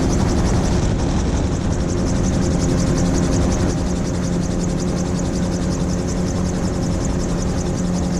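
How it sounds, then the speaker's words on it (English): A loud, steady roar of a low-flying jet passing fairly close overhead above an estuary at low tide, broadband and continuous throughout with no one speaking. "Oh, there he is. There's our jet."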